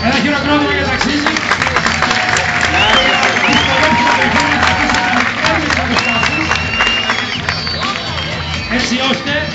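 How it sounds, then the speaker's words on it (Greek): Crowd applause at a Paul Swift stunt driving show, a dense steady clapping wash with cheering and babble, with an announcer talking over it throughout. "Ένα χειροκρότημα για ταξίδι."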